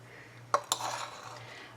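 A tablespoon scoops apple filling for puff pastry turnovers, giving two quick, faint metal clinks close together, followed by a brief soft scraping, against quiet background hum.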